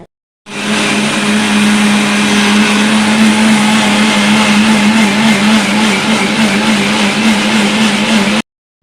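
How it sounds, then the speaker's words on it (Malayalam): A mixer grinder grinds raw rice with water into a fine batter, a steady loud whirring motor hum with a strong low drone that runs continuously after a sudden start. "ആവശ്യത്തിന് വെള്ളവും ചേർത്ത് നന്നായി അരച്ചെടുക്കാൻ പോവാണ്"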